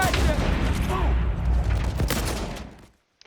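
Video game grenade explosions and gunfire in a loud, dense barrage of booms and shots lasting nearly three seconds, with shouted voices mixed in, then a sudden cut to silence.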